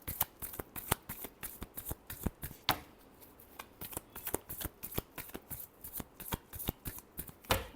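Tarot cards shuffled close up during a love reading make quiet, rapid riffling bursts in a regular rhythm, with a short pause partway through and no speech.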